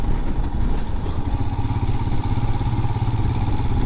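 Royal Enfield Himalayan motorcycle (2021) cruising at a relaxed pace through small hamlets, its engine a steady low rumble with continuous road and wind noise, no pauses.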